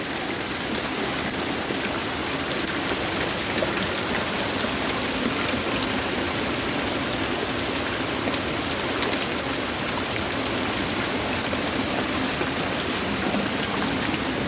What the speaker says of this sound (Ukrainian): Іде град.